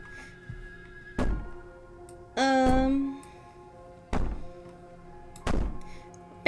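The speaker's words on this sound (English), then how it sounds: "Bang on that door all you want." Heavy thuds of banging on a door in Slay the Princess, four separated loud impacts spaced irregularly, with a sustained groaning, pitch-bending voice-like sound between the first and second blows.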